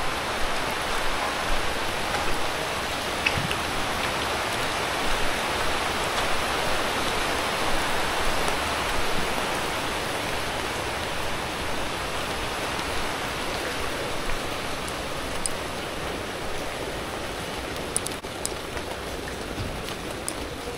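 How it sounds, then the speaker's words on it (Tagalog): Steady rain pours down during a fishing trip in stormy typhoon weather, a dense continuous hiss of drops on surfaces that holds even for the whole stretch, with no voices. "Ngayong umuulan."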